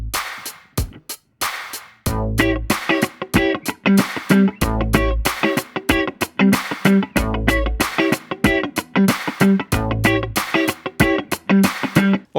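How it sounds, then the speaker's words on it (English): An electric guitar alternates strummed chord calls with single-note answers in a steady rhythmic pattern. Low sustained notes recur every couple of seconds, and the guitar plays loud and alone. "we can set the call as the chord and the response as the single note,"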